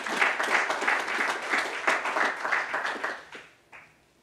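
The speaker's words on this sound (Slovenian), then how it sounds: "Še en aplavz, dajmo našem nagrajencu." An audience applauds an award winner at a government prize ceremony, with steady moderate clapping from a modest crowd that thins and fades out toward the end.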